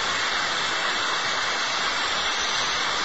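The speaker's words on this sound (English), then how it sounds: "There's the Australian waterfall." An Australian waterfall soundscape from a relaxation app: a steady, dense rush of falling water that stays loud and unbroken throughout.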